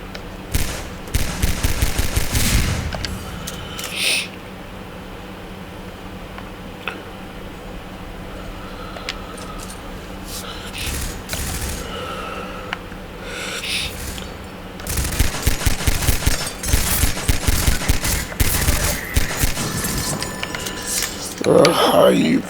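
Bursts of rapid gunfire from Half-Life 2 break out at the start and again near the end, with quieter stretches and occasional clinks between them and someone talking over parts of it.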